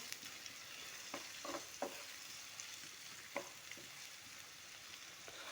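Chopped onion sautéing in a pan with a steady, fairly faint sizzle, broken by a few sharp scrapes and taps of a utensil stirring. No one speaks.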